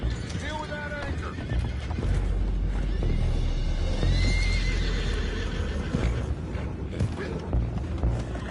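In the video game Red Dead Redemption 2, horses whinny and neigh over the clatter of hooves, with people talking and a low rumbling background throughout.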